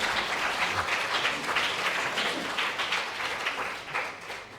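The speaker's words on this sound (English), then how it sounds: "Let's give him a round of applause" Audience applause at a university civic engagement talk, a steady wash of many hands clapping that holds at even loudness for several seconds with no speech over it.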